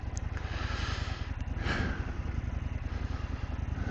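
Indian FTR 1200 S motorcycle with a 1203 cc engine idling roughly just after starting, a close, steady low throb with uneven pulses and no talk.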